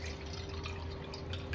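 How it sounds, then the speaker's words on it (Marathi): Water poured into a cooking pan at home to make Maggi noodles, a steady close splashing trickle that runs continuously throughout with no talk over it. "पहिले असं पाणी टाकायचं"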